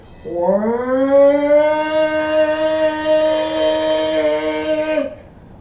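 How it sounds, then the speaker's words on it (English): A rising, wailing air raid siren climbs to a steady loud tone, holds for several seconds, then cuts off; no talking. "When they stopped doing the air raid siren testing."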